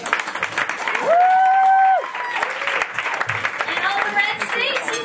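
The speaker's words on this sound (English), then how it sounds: "I want everyone from the blue states to clap your hands" An audience of people from the blue states claps their hands at a comedy show, a steady wash of applause under a live room's background noise, with a brief held tone partway through.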